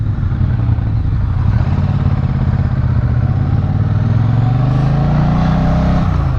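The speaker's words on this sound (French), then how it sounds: "Là on se repose sur le couple de la Bonneville." A Triumph Bonneville motorcycle pulls uphill on its torque, its engine droning loud and steady at close range throughout, with the pitch rising slightly toward the end.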